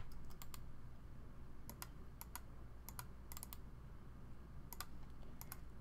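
Computer keyboard keys and mouse buttons click in scattered quick bursts, close up, during a Minecraft-style let's play session, over a steady low hum of background noise with no talking.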